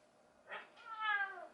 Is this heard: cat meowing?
yes